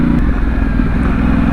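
Yamaha Tenere 700 motorcycle engine with a Dominator slip-on exhaust, a loud, close, steady idle rumble with rapid low pulsing throughout and no voices.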